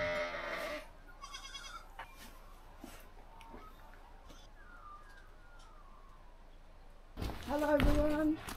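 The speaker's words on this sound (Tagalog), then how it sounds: "Guys, gutom na yung mga alagang kambing at tupa." Hungry farm goats and sheep on an off-grid property in Australia bleat loudly and close by at the start and again near the end, with a quieter stretch of faint outdoor sounds in between and people talking.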